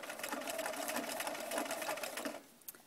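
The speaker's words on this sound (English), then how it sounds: "you're going to start sewing so that it's about 1/16 of an inch inside" A sewing machine stitches binding onto a quilt close to its edge, running steadily at a fast even needle rhythm for over two seconds before stopping, followed by a couple of faint clicks.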